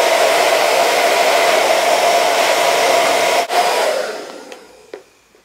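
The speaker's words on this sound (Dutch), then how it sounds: "Maar gewoon dit plukje zo houden en dan föhnen." A Babyliss The Pro Red hair dryer blows steadily and loudly on a lock of hair, a constant broadband whoosh that cuts out briefly, resumes, then winds down with a few clicks near the end.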